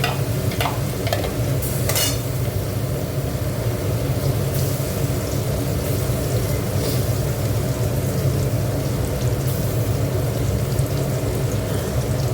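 Garlic frying in a pan, a continuous close sizzle with a few scattered stirring clicks, no talking.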